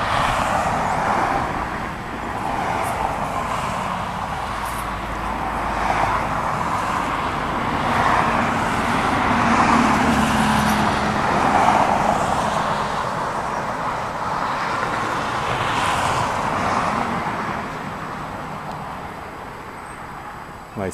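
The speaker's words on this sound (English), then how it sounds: "Sorry about all the traffic noise." Steady road traffic rolls past outdoors near blooming Japanese plum trees, cars swelling and fading in a continuous moderate roar with a few quiet voices.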